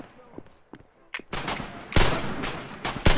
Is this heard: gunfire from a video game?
yes